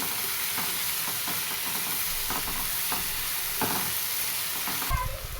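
Tender fenugreek leaves for methi bhaji being sautéed in oil in a pan: a dense, continuous hissing sizzle with intermittent soft scrapes of a spatula, steady and close throughout.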